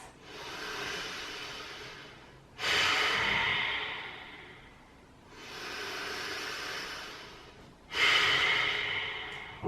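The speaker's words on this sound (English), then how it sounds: "3 more breaths." Slow, deep breaths during a mindfulness exercise, four long airy inhales and exhales in an even rhythm, close and fairly loud, with no talking.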